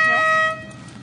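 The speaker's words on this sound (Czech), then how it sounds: "Panna zatroubí a jedem." A single short, loud horn toot close by, lasting about half a second before fading into quiet background.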